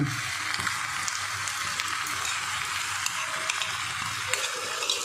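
Steady sizzling and frying of potato and egg pasta as a prepared spice mix is stirred in, with faint scraping of the spoon in the pan, close and continuous.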